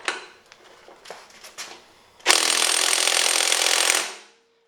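A DeWalt impact wrench with a big 60-volt battery turns a bolt: some light clattering handling noise, then a loud, dense, continuous hammering buzz for almost two seconds that ends abruptly.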